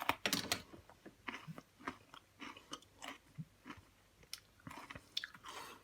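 Raw kohlrabi being eaten, with loud, close crunchy bites followed by a run of rhythmic, moist chewing, and no talking.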